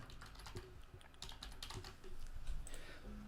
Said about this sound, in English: I'm going to type in my URL